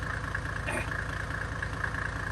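Mercedes W123 300TD fitted with a swapped OM606 diesel engine idling steadily nearby, a low even rumble with a regular pulsing beat and no talk.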